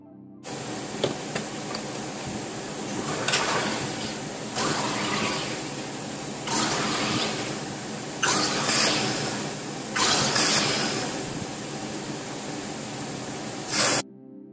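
CO2 gas from a 5 lb tank hooked to a Sodastream Fizzi hisses into a drink bottle in several long sprays, each a few seconds long, close and steady, with short pauses and sharper bursts between them.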